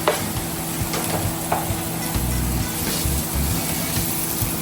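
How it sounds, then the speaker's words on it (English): Carrots sautéing in a pan on a home stove while a Jamaican-style meal is cooked, with a steady low sizzle and occasional scraping stir strokes, fairly close and continuous with no talk. "Get them all sauteed and looking good."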